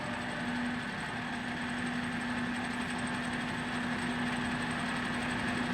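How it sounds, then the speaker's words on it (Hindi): A TOS FO-6 gear hobbing machine runs its motorized hob rapid travel, giving off a steady, even electric motor hum with a constant tonal whine throughout, moderately loud and unbroken. "इसमें जो हॉब ट्रैवल्स है वो मोटराइज इलेक्ट्रिक स्विच से है."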